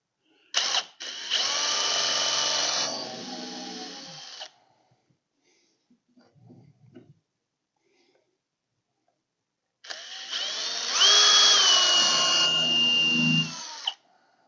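A power drill drives long screws into a wooden kids' airplane rocker in two loud whirring bursts of a few seconds each, pitch sagging as the screw bites, with a short quiet handling moment between them.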